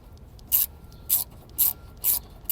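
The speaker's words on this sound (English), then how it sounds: "Now I'm going to use a 10mm socket and wrench so that it goes through the rod and it's easier to see." A 10mm socket and wrench working a nut on the battery hold-down bracket of a Scion iQ, giving five evenly spaced bright rasping ratchet bursts about half a second apart, close and fairly clear over a low background rumble.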